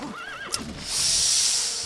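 Roach, the horse in The Witcher 3, gives a clear wavering whinny, then a loud airy snort or blow, heard close and alone with no talk over it.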